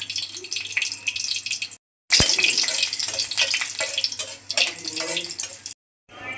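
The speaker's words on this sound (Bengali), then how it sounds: "তেল গরম হয়ে গেছে, দিয়ে দিচ্ছি শুকনো লঙ্কা ফোড়ন।" Dry red chillies dropped into hot oil in a kadai give a loud, close, crackling sizzle that runs almost continuously, with two brief silent gaps.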